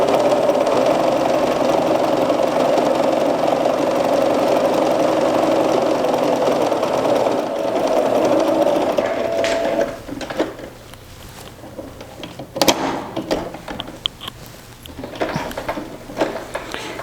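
Sewing machine stitching fabric, a steady mechanical whir running continuously for several seconds before stopping, followed by quieter clicks and handling noises.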